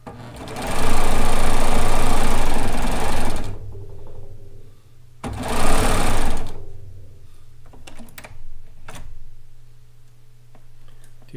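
Serger sewing machine stitching kimono fabric, two loud runs of fast whirring stitching separated by a pause, then quieter clicks and handling noises.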